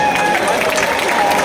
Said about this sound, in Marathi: एकदा स्वतःची टाळ्या वाजवा.